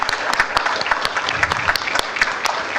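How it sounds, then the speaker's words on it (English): Audience applause at a county commission meeting, a round of clapping for sheriff and fire staff, with sharp individual claps standing out from a dense, steady patter close by. "let's give them a great round of applause for what they do."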